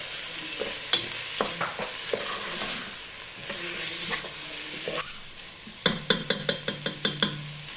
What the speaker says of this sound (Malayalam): ഈ കഴുകി ഡ്രെയിൻ ചെയ്ത് വെച്ചിരിക്കുന്ന ചിക്കൻ പീസസ് ഇതിലേക്ക് ഇട്ടിട്ട് ഒന്ന് മിക്സ് ചെയ്ത് കൊടുക്കണം